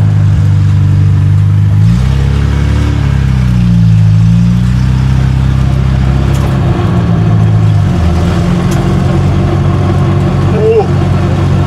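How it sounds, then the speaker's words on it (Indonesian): A loud Toyota AE86 car engine drones close by, revving up and easing off in a couple of swells over a constant rumble. "Suaranya kenceng banget, John."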